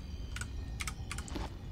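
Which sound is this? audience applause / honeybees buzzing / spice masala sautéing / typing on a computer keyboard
typing on a computer keyboard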